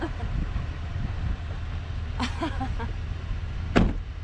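Car door and electric window sounds as someone climbs quickly into a car parked among cows, a few short mechanical thumps and whirs over steady outdoor rumble, with one sharp louder thud near the end.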